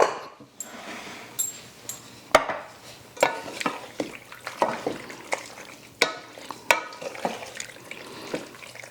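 Mozzarella being stirred into a baked ziti mixture, heard as irregular close scraping and wet squelching strokes of a spoon through thick, cheesy pasta.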